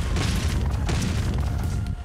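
A grenade exploding in the top-down video game Streets of Rogue, a loud, dense booming blast with rumbling debris that fills the whole moment, close and alone without voices.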